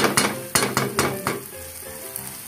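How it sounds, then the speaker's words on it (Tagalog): Metal spatula taps on a kawali frying pan while sinigang sa miso cooks, a quick run of about six sharp clinks over a soft, steady sizzle. "tuktukin niyo po yung kawali niyo para sumarap yung luto"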